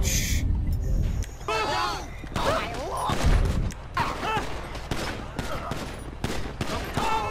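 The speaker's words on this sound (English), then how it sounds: "Shot fired!" Gunfire in the GTA V police mod LSPDFR, bursts of rapid shots and sharp cracks mixed with shouting voices, loud and chaotic throughout.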